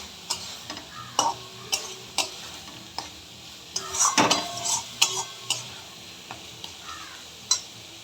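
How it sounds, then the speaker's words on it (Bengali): Small prawns are stir-fried in a pan for coconut malaikari, with irregular metal spatula clinks and scrapes against the pan over a faint sizzle, close and fairly quiet. "এই সময়তে আমি চিংড়ি মাছগুলো দিয়ে দেবো, দিয়ে একটু ভালো করে এখন কষবো।"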